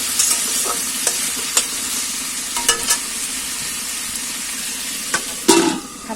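Food frying on a low flame in a home kitchen pan, a steady soft sizzle punctuated by repeated sharp scrapes and clicks of a spatula stirring, with a louder clatter near the end.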